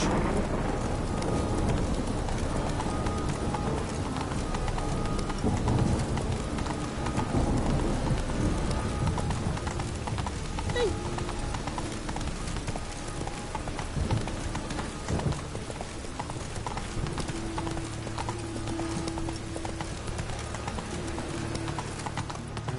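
Geralt's horse Roach trots steadily through pouring rain in The Witcher 3, hooves clip-clopping in an even rhythm over a constant hiss of rainfall and low rumbling, with no speech.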